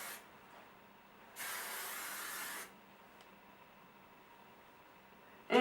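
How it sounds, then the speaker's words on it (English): Hairspray from an aerosol can sprays onto hair during a fishtail braid updo, a single steady hissing burst of just over a second, close and fairly loud, set against quiet room tone. "And then I'm going to spray it."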